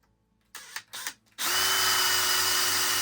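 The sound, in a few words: drill facing the top of a brass pen barrel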